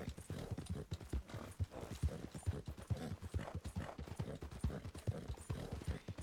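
Horse hooves trotting in Red Dead Redemption 2, a brisk, even clip-clop of many close, distinct hoofbeats running throughout without pause.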